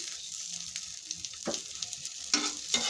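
Vegetable-stuffed snacks fry lightly in ghee with a steady soft sizzle, broken by a few sharper crackles and spatters as the pieces are turned.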